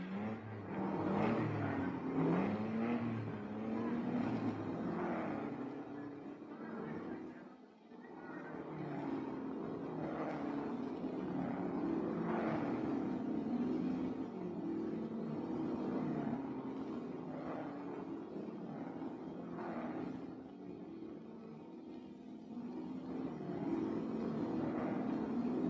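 Jaguar race cars from the 1961 Tour de France Auto roar along the road to Le Mans, their engines droning and revving in rising, falling waves at a fairly distant, muffled level on an old film recording.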